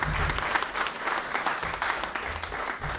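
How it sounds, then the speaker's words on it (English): Steady, dense applause from an audience at a totem pole blessing ceremony, a continuous wash of clapping at even loudness throughout. "I want to just give her a round of applause."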